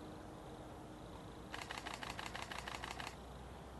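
A camera shutter fires in rapid burst mode without its noise-blocking cover, heard from about ten metres away: a quick run of faint, evenly spaced clicks lasting roughly a second and a half against quiet room hiss.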